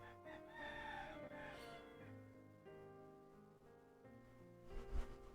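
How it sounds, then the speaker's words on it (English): Chickens and a rooster going off together, with crowing and clucking calls layered over each other, fairly near and steady throughout, with a louder burst near the end. "chickens are going off in my place right now"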